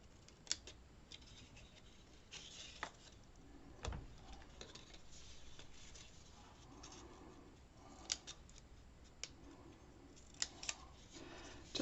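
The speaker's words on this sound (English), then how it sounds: "You will cut out little triangles." Scissors snip small triangles out of paper, a series of faint crisp cuts at irregular intervals close by in a quiet room.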